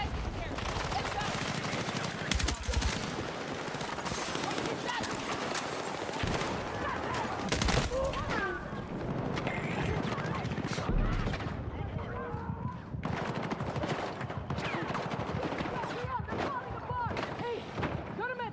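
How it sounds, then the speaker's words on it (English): Continuous automatic gunfire and explosions fill a chaotic Battlefield 6 firefight, loud and relentless throughout, with voices shouting over the din. "He started mag dumping him."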